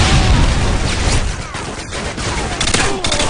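A Predator missile strike in Call of Duty erupts in dense, continuous blasts and gunfire crackle, loud and broadband throughout, with sharp bursts near the end.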